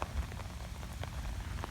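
Afternoon thunderstorm rain falls steadily on surfaces, a soft, dense patter with scattered individual drops, heard alone at fairly low level.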